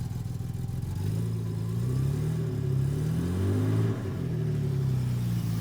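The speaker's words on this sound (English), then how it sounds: "We can probably just rev it out a little bit." A Jaguar Mark 2 engine idles up and revs in a few smooth, rising and falling swells, a deep, steady rumble heard close with no talk.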